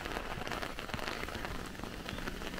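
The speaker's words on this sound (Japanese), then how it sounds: "こういう雨もまたいいもんです。" Steady rain falls on a stone-walled mountain village in the Kyushu highlands of Miyazaki, a dense, even patter of drops on wet stone and surfaces, close and continuous with no voices.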